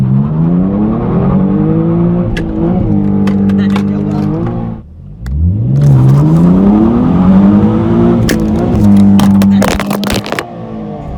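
A Nissan Z accelerates hard during a GPS performance-meter run. The engine roars loudly and climbs in pitch, drops briefly at a gear change, then revs up again strongly, close and dominant.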